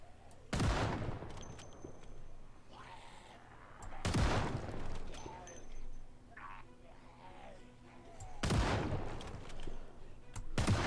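A sawed-off shotgun in the video game Project Zomboid fires three loud, sharp blasts about four seconds apart, with quieter in-game ambience and faint noises between shots.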